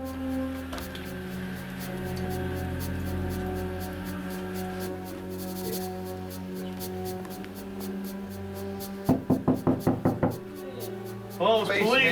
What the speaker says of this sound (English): You didn't hear us knocking on your door?